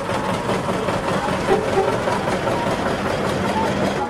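Britzer Parkbahn park railway train in Berlin's Britzer Garten, running near the engine shed stop, giving a steady rumbling engine and rolling noise with faint clatter, continuous and moderately close without speech.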